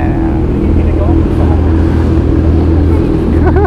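Kawasaki ZX-10R 1000cc sport motorcycle engine idling and rumbling loud and close, a steady deep drone with slight revs, while people talk over it.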